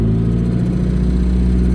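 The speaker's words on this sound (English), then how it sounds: "So I'm gonna rev it up" A VW TDI diesel engine revving hard, a loud, steady, close drone that holds high and constant throughout with no voices.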